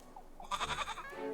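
A goat bleats once in a farmyard in the game Little Goody Two Shoes, a short wavering cry standing alone and close.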